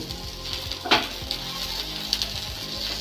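Onion and garlic dry-roast in a pan with no oil, giving a steady, gentle sizzle and crackle. A few sharper clinks and stirring knocks stand out, close and clear, with no talking.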